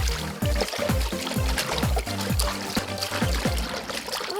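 Leaking water floods a house in a children's cartoon, with splashing and gurgling pours and rhythmic sloshing surges under a busy music-like backdrop, close and fairly loud throughout.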